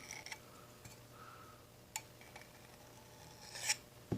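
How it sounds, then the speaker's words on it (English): A tool scrapes a burr off a saxophone's metal body during dent repair, giving faint, quiet rasping and scratching with a few small ticks and clicks, close by. "you saw the little curly Q come off. That was the burr coming off."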